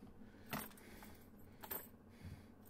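Keys for the locks, storage boxes and alarm of a 2007 Freightliner M2 Sportchassis truck jangle faintly in two or three short metallic bursts over a quiet background.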